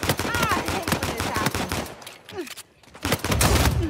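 Bursts of gunfire from an Uncharted 4 team deathmatch game, rapid loud volleys with a brief lull in the middle before firing resumes.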